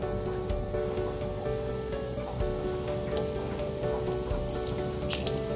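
Cumin seeds sizzle in hot groundnut oil, a steady close crackling hiss with faint scattered pops and drips, continuous throughout with no talking.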